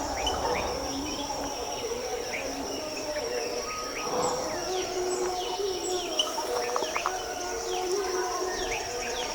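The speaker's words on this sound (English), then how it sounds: "recording this video of this rufous tree pie" A rufous treepie calls in forest at a nature camp, its repeated chirps rising over a steady wash of crickets and other distant birdsong throughout.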